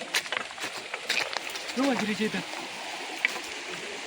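A strongly flowing stream rushes at night during a crab-catching outing, a soft, steady hiss of water with a faint voice briefly audible over it.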